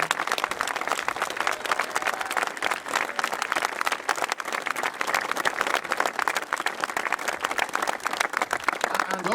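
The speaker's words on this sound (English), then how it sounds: "A big round of applause for them." Steady crowd applause at a statue unveiling ceremony, moderately loud and sustained for several seconds.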